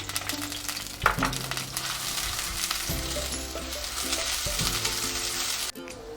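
Chopped medium onion frying in mustard oil, a loud steady sizzle close by with an occasional scrape or clink of a utensil, no voices.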